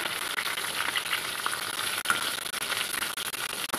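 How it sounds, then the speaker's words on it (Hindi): Fish fries in a pan over a high flame, giving a continuous bright hiss and crackle at a steady level, close up and uninterrupted by speech. "अच्छी तरीके से फ्राई होने के कारण इसे पलटने में हमें परेशानी नहीं हुई"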